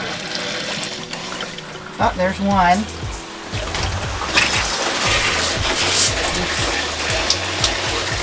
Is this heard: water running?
yes